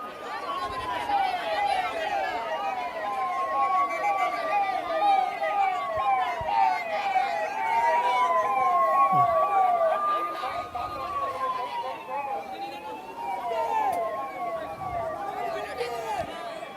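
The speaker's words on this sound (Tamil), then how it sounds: "ஆம்புலன்ஸுக்கு வழிவிட்டுருங்க." An ambulance siren wails through a crowd at an election campaign rally in Nagercoil, its rising and falling tone sustained and loud over crowd chatter, while someone talks over a loudspeaker.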